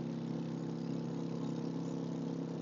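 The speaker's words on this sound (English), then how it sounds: "Sorry, there's a motorcycle next to me." A motorcycle engine beside the road gives a steady, even buzzing drone, fairly faint and unbroken, with no talk over it.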